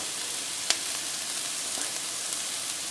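Curry powder fries with aromatics in a hot pan, giving a steady, close sizzle with a couple of faint clicks from stirring and no talk.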